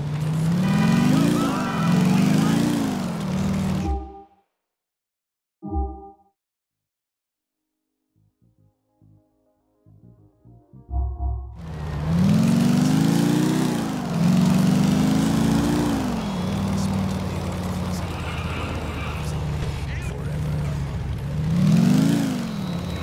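A stolen motorbike in GTA IV roars loudly and revs up and down, cuts out to near silence for several seconds, then returns with a sustained, rising engine drone.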